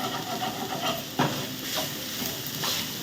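Egg rice frying in a pan with a steady, close hiss and sizzle, a few scraping stirs and one sharp clink of a utensil midway; no one speaks.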